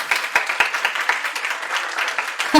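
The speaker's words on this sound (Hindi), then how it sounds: "तालियों पे तालियां बज रही है" Students in a classroom break into loud, sustained applause, a dense crackle of many hands clapping together with a few sharper claps standing out near the start.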